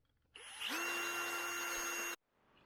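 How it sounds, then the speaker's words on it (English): A power drill opens up a hole in a removed car panel, with a brief whir spinning up to a steady high-pitched whine for under two seconds before stopping abruptly, close and alone. "I'm going to drill that hole open bigger now that I have it off"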